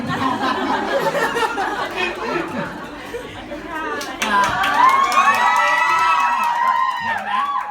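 Crowd chatter swelling into high-pitched screaming and cheering at a live fan meet and greet for a Thai drama series cast, loud and close with scattered clapping and shouting voices.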